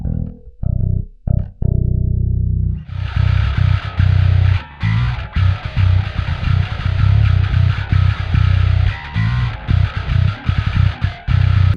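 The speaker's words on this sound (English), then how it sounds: "my 5-string bass running through Neural DSP's Parallax plugin" A 5-string bass played through an envelope filter into Neural DSP's Parallax distortion plugin, with squelchy, growling, heavily driven notes. A few sparse plucks open, then dense rhythmic phrases follow, loud and alone.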